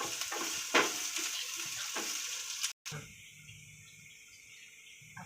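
Onion roasting in a pan for misal masala, a soft sizzle with a few scraping stirs early on, then a brief cut and quieter, steadier frying afterward.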